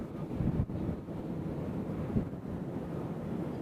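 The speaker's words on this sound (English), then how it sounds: "Watch the wind as it has just picked up momentarily." Steady wind buffets the microphone at Nashville International Airport, a continuous low rumble that swells briefly, with no voices.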